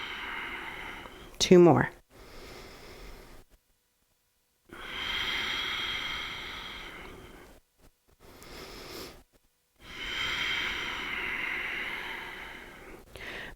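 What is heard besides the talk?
slow breathing exhales during a yoga stretch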